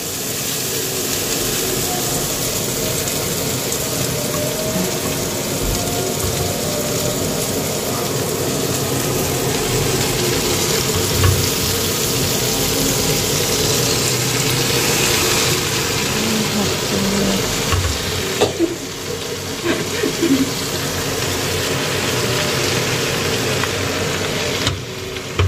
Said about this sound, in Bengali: শাকটা চুলায় দিচ্ছি, একবারে তেলের উপরে দেবো, তাই পেঁয়াজ রসুন মরিচ